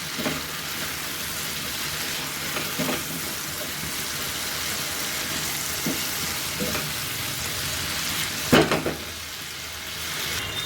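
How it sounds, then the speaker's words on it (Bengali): Green chili and chopped tomato, lightly salted, sizzle steadily in a pan while being sautéed for a broccoli and prawn dish, with a few scraping stir strokes and a louder clatter near the end. "এর মধ্যে এবার আমি কাঁচা লঙ্কা, টমেটো কুচিটা দিয়ে দিলাম, আর একটু সামান্য নুন দিলাম টমেটোর ওপরে, দিয়ে আবার ভালো করে কষিয়ে নেব।"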